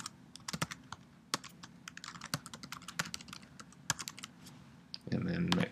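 Computer keyboard keys clicking in an irregular burst as an email address is typed, with close, crisp taps and brief pauses, ending in a short louder sound.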